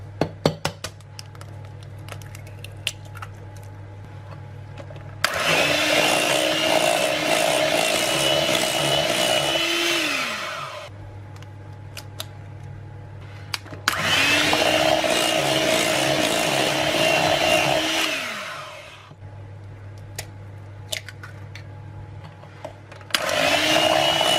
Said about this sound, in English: And now we'll whisk in the eggs one at a time